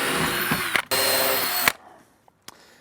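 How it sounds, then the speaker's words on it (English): A power drill bores out old pop rivets on a jalousie window, two loud close whirring bursts with a brief stop between, followed by quiet clicks and light handling. "I'm gonna get it ready by drilling out all these old pop rivets"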